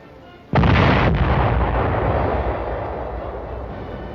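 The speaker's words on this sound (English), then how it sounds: "A gun crew fires a 105mm howitzer." A 105mm howitzer fired by a gun crew gives a single loud, close blast that cuts in sharply and then rolls off in a long fading rumble.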